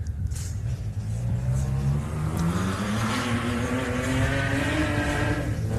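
A Pro class off-road race buggy revs at the LoveDay 4x4 Adventure Park, its engine note climbing and droning steadily at a moderate distance, with no voices over it.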